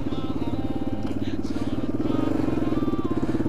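A KTM supermoto motorcycle engine thrums loudly and close with a rhythmic pulsing beat that builds slightly toward the end, while a rider's voice talks over it.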